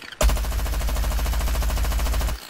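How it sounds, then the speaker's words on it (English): A machine gun in Plants vs. Zombies fires a rapid, continuous burst of rounds, loud and close, starting abruptly and running for about two seconds before cutting off sharply, with no talk over it. "I like this machine gun, it's really cool."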